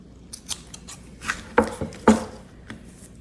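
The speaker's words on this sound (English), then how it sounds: "I'm just gonna cut some off." Scissors cut a piece of stretchy material for decorating a junk journal cover, giving several crisp, close snips spaced irregularly over a quiet background.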